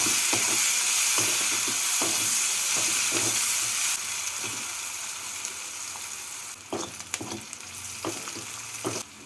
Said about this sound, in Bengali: পেঁয়াজটাকে লাল করে ভেজে নিচ্ছি